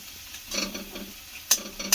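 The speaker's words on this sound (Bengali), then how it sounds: "এবারে সমস্ত উপকরণগুলোকে খুব ভালো করে মিশিয়ে নিতে হবে।" Ingredients are stirred in a hot pan for a Maggi-masala style recipe, scraping and sizzling close up in short bursts with two sharper clinks near the end, and no talking.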